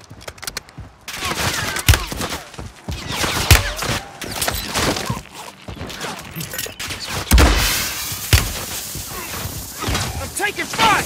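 Heavy Call of Duty gunfire crashes out in repeated loud bursts and single cracks with thuds and debris, close and intense, while voices talk over the battle.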